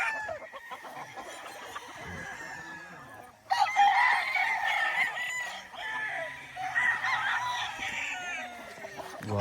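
Chickens of Allen and Cardinal bloodlines, pullets in a farm setting, crowing and clucking steadily throughout, with several birds calling over each other and a louder burst midway.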